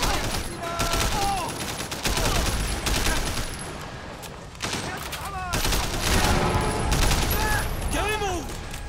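Assault rifle fire rattles out in rapid bursts during a shootout in the video game Sleeping Dogs, with loud overlapping volleys continuing across the whole stretch and a few voice-like shouts breaking through.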